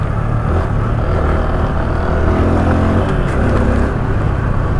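Honda Super Cub motorcycle ridden off-road, its small engine droning steadily and close with a rough, constant rumble and faint rattles throughout.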